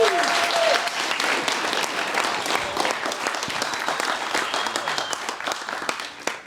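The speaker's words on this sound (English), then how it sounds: "Can I get a round of applause for my main man and the MC for this evening" Wedding guests at Bendooley Estate in the Southern Highlands applauding during a reception speech, a loud, full burst of clapping that carries on throughout and eases slightly toward the end, with some voices mixed in.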